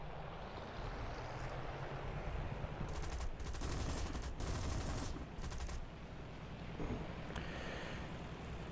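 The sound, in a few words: four French machine guns firing, War Thunder video game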